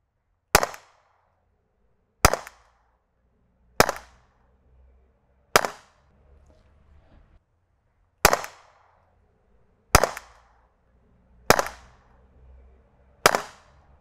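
An Umarex T4E TP 50 Compact 11-joule pistol fires eight sharp, loud cracks at a slow, even pace about one and a half to two seconds apart, each shot alone with only a short tail between them.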